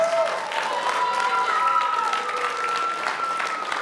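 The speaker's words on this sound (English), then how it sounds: "give him a round of applause" An audience at a church Vacation Bible School closing program applauds steadily as a guest physicist joins the stage, even continuous clapping at moderate volume with a few voices faintly rising through it.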